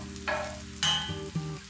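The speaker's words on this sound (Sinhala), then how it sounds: "දැන් මික්ස් කරගෙන ඉඟුරු සුදු ලුණු ටික ලාවට රන්වන් පාට වෙනකම් ෆ්‍රයි කරගමු." Ginger garlic paste frying in hot oil with curry leaves for a Sri Lankan devilled chicken, sizzling steadily with a few bursts as it is stirred in the pan, close and alone.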